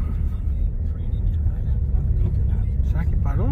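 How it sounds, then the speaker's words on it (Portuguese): A car rumbles along a snowy street, its low engine noise steady and fairly close, with people chatting over it throughout. "Aquele carro lá."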